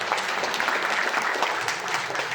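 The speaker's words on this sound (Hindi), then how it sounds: "तो जोरदार तालियां हो जाए यार" Loud, steady applause from an audience at a Modicare business plan presentation, dense clapping running throughout without a break.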